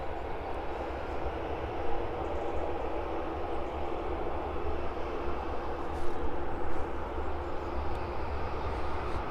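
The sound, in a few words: aircraft taxiing onto the DHL cargo apron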